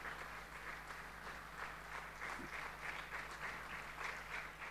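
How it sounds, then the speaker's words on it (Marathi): Congregation clapping hands together at a Sunday church service in Pune, a faint, steady patter of applause sustained throughout with a low electrical hum beneath it. "Let us clap our hands टाळ्या वाजवूया."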